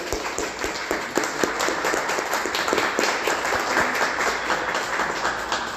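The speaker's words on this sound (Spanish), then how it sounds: "les pido por favor un fuerte aplauso aquí a nuestra conferencista" A lecture audience gives a loud round of applause to the speaker after a talk on film censorship, with sharp, dense hand claps from a roomful of people that keep up steadily without a break.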